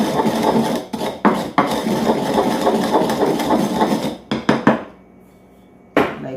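A food grinder whirs loudly at close range with rattling, clattering texture. It cuts off abruptly, then starts again briefly in short bursts.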